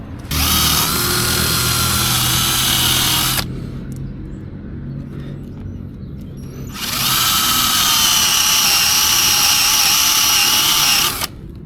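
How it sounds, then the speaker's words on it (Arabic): A power drill with a bit bores into a part while a stabilizer for a Voge DS525X motorcycle's gear selector is being fitted. Two loud, sustained whining bursts of about three and five seconds are separated by a quieter pause, with no talk. "باش نحفر بالميش"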